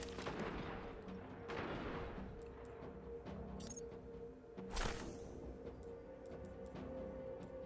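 A fire fusion rifle in Destiny fires a few heavy, booming shots, loud and close, separated by pauses over a steady background hum.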